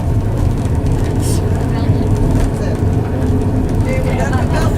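A tour bus driving through Italy on the way to a wine tasting produces a loud, continuous rumbling road and engine noise throughout, with voices talking over it.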